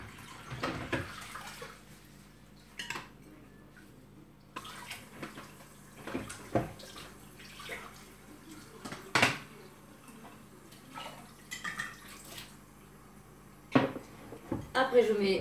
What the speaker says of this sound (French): On met 1200 g d'eau dans le bol.